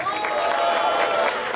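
Battle-rap crowd cheering and clapping for Blackout's rhymes at a street rap battle, a steady loud wash of applause and shouts from many people throughout.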